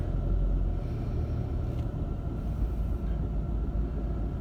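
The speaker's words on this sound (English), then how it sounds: "So the convoy is just starting to move off now." Low, steady rumble of heavy vehicles and lorries in a carnival convoy pulling away together, a continuous engine drone with no voices.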